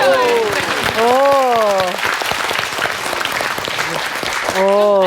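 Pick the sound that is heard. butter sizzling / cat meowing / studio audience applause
studio audience applause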